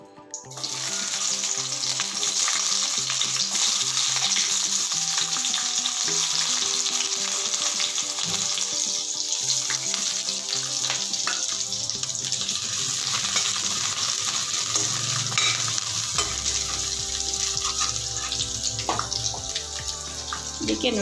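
Onions crackle and sizzle in a little oil in a pan, a loud continuous fry heard up close for a long stretch, with occasional utensil clinks and scrapes and a deeper rumble near the end.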